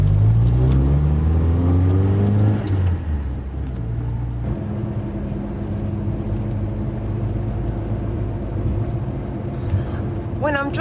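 A car drives along with a steady, loud engine and road rumble that shifts pitch early on, with wind buffeting the microphone throughout.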